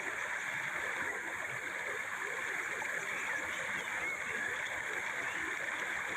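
Water from a stream rushes continuously near a waterfall area, a steady broadband roar and gurgle at moderate level with no break.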